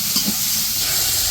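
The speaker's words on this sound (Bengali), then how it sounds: "তো এই যে পেঁয়াজ আর কাঁচামরিচ ভাজা নিতেছে" Onions and green chilies fry in a pan for a village-style big pangas fish curry, giving a loud, steady sizzle with a brief stirring scrape near the start and no talking.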